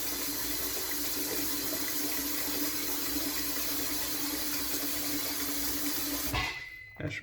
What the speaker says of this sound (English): I don't normally have the water running in the back.